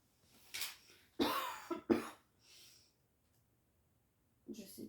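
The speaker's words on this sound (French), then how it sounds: "je vais pas mal tousser, je pense, j'ai mal à la gorge" A person with a sore throat gives several close, dry coughs in quick succession, with a softer throat-clearing cough after a quiet gap, indoors.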